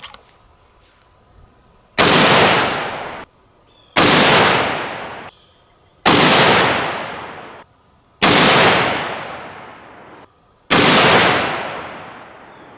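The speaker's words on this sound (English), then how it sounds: "this is some excellent shooting out of the 30-30" .30-30 rifle firing Hornady 150gr round-nose handloads at a range: five loud, sharp shots spaced about two seconds apart, each with a decaying echo.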